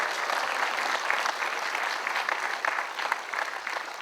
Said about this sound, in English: Can we give them a big cheer, please?